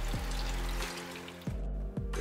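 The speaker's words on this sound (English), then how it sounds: "I was greeted with the sound of running water" Water runs in a steady, soft stream inside an earthship-style homestead, with a few faint knocks and low thumps from inside the house over the trickle.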